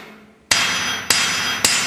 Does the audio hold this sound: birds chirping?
no